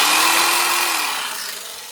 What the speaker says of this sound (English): I'm going to use a jigsaw because I got one right here.